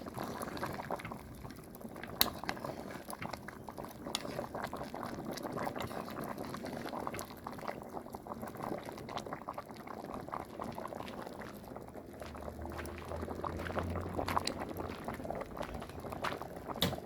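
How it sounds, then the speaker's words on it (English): A pot of Jamaican red peas soup with pig tail and cow skin bubbles steadily while water is poured in, giving a soft continuous gurgle and splash for the whole stretch. "Just adding some water to my pot."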